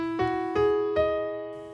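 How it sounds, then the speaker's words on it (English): The Final Fantasy VII main theme opens with three plucked, harp-like notes of video game music, each sustaining into a held final tone that fades out slowly. The notes play alone at moderate level. "the main Final Fantasy VII theme sounds like this"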